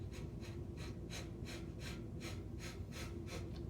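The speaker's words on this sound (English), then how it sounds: "forceful exhales here." Forceful exhales during a breathing exercise, about ten sharp rhythmic bursts through the nose at an even quick pace, close and fairly soft, with no talk.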